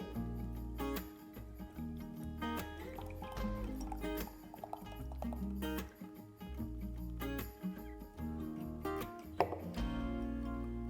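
SIPA beer from Hilden poured into a glass at a beer festival, a continuous close gurgling and glugging fill that rises in pitch as the glass fills, heard alone with no talking.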